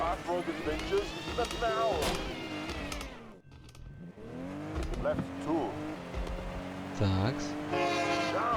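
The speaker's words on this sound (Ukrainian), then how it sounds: "Паровозик просто потяг, бляха, промчався." A steam train rushes past with its horn blaring in the DRIVE Rally racing game, a loud whoosh and tonal blast swelling over the car engine and game audio, with someone talking throughout.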